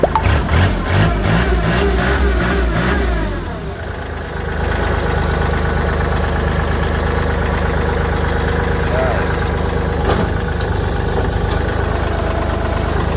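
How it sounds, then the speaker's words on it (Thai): A Kubota L3608 diesel tractor engine idles loudly and steadily after a rough start, its low throbbing rumble continuing close by with a brief voice over it. "เดี๋ยวลองมาสตาร์ทเครื่องยนต์ดูนะครับ"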